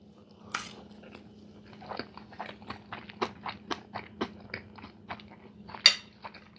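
Close, crunchy chewing of a pancake chili cheese omelet with nacho chips, a run of about a dozen crisp bites and crunches spaced roughly a third of a second apart over a faint steady hum.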